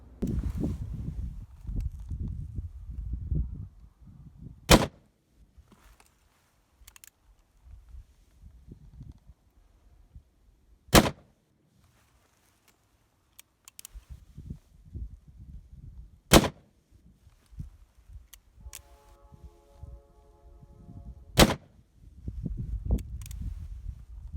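Five sharp gunshots from .45 Colt handloads fired over a chronograph at an outdoor range, spaced several seconds apart, each a loud crack standing out above low background rumble and wind, with no talking.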